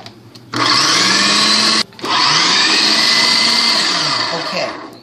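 A kitchen blender purees cooked cauliflower with a teaspoon of regular butter, whirring loudly and steadily, briefly stopping for a moment before roaring back up and running on.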